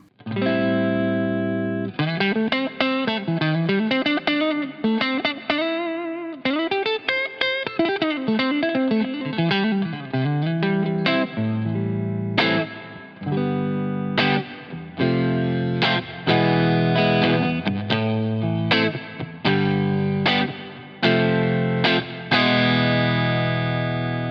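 Fender Stratocaster electric guitar played through an amp with reverb, starting with sustained bending chords and moving into choppy, rhythmic strummed chords, loud and close.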